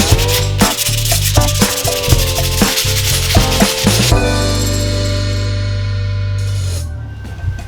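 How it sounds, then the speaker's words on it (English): Abrasive sanding strips paint and surface rust from a vehicle differential, a loud continuous rasping grind with rhythmic strokes and shifting pitch, steadying into a smoother drone before a brief lift near the end; no talking. "I'm just going to sand the top layer of paint and surface rust off this diff"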